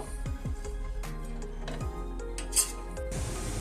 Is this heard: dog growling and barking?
no